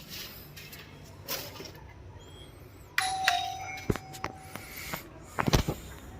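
A hotel room doorbell chimes at close range with a clear electronic ding tone, followed by scattered knocks and shuffling handling noises in a quiet hallway.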